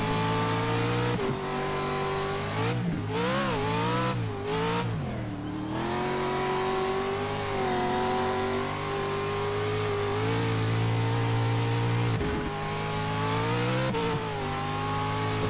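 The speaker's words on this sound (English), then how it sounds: "I forgot to turn my engine sound down." Race car engine in the iRacing sim, a Lucas Oil Pro 4 off-road truck at Wild West, droning loud and steady with repeated revs rising and falling through gear changes, no talk.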